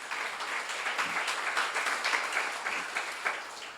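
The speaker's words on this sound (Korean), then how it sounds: "박수를 하면서 하나님이 기뻐하시오." Congregation applause at a church seminar: a steady wash of many hands clapping together, moderately distant and even, continuing for a few seconds with no voice on top.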